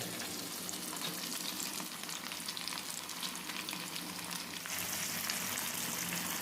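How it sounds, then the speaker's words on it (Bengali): Pomfret fish fries in hot oil on its second side after being flipped, giving a steady, dense sizzle and crackle that runs loud and unbroken from start to finish, with no voices. "দ্বিতীয় সাইডটাও ভালো করে ভেজে নিতে হবে"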